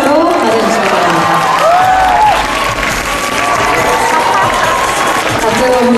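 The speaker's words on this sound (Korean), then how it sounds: "큰 박수로 받아주시기 바랍니다" Loud, steady applause and cheering from a large crowd at a Korean music awards ceremony as a male artist award winner walks to the stage, with shouts and whoops rising over continuous clapping.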